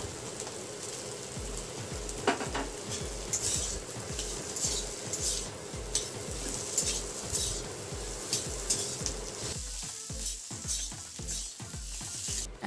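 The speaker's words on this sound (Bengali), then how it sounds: "আলুটা এভাবেই ভাজতে থাকবো।" Potatoes and green chillies fry in a pan with a steady, close sizzle, while a spatula scrapes and stirs in a regular rhythm throughout, with no talking.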